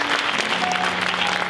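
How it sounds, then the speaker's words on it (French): Audience clapping steadily at a mentalism show in a large concert arena, a dense, continuous wash of applause filling the hall at even loudness with no voices on top. "Des fois, quand je fais ça, les gens applaudissent"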